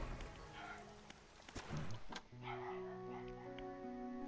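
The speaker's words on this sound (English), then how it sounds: "This is a dog that's barking" Dog barking in the fishing game Dredge: a few sharp yips and barks scattered over a steady background of in-game music and ambience, moderately close.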